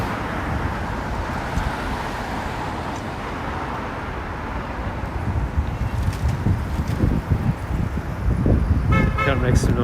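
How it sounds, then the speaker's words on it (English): Car with a loud exhaust passing on a busy city street in Chinatown, New York, its rumble rising over steady traffic and wind noise, with a brief horn toot and people talking nearby. "Gotta make some noise here with your loud exhaust."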